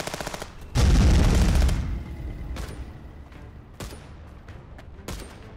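In Contraband Police, a rapid volley of gunfire and heavy impacts pound the player's car in a loud dense burst about a second long, then scattered single shots and thuds crack out at intervals.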